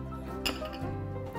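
Fried shredded fish floss mixed with fried shallots being stirred in a bowl, giving a single bright clink of utensil on the bowl amid a steady, close scraping and rustling.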